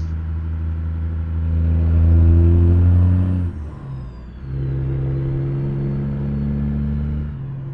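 A 1947 pickup truck engine in American Truck Simulator revs and drones loudly with a steady harmonic hum, rising, dipping briefly as it shifts, then settling back into a sustained mid-pitched roar.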